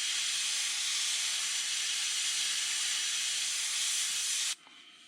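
Airbrush spraying paint in a steady, close, unbroken hiss during custom detail painting, cutting off abruptly near the end to low room noise.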